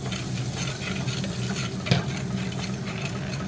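Red chilli and salt being stirred into a mixture in a pan, a steady scraping stir over a soft sizzle, close and continuous with one brief louder clink near the middle.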